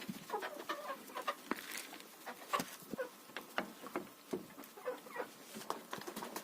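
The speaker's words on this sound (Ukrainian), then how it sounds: "Те, що не з'їдають перепілочки, я віддаю курям. Кури дуже добре їдять." Hens being fed leftover quail feed cluck softly and scratch about, with scattered pecking taps and patter as they feed, fairly close and continuous.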